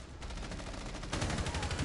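Rapid automatic gunfire in Rainbow Six Siege during a competitive European Open League match, a dense volley of overlapping shots growing louder in the second half.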